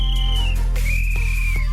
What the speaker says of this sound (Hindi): फिर से जैसे ही चौकीदार सीटी बजाता है